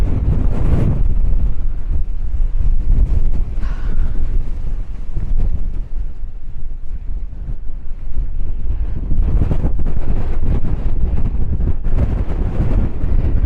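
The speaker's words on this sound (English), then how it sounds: "Wow, it's windy." Strong wind buffets a microphone at a roadside campsite during an Easter trip up north, a loud continuous rumbling roar with heavier gusts at the start and again toward the end.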